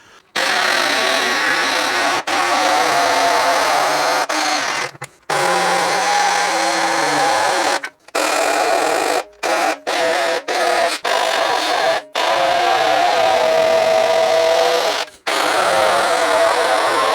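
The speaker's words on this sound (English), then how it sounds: "just one last thing I'm going to cut out with a jigsaw" An Evolution R90JGS-Li 18V cordless jigsaw cuts continuously, a loud, close buzzing saw whine broken by several short pauses as the trigger is released and squeezed again.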